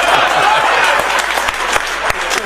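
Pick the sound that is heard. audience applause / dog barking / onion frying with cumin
audience applause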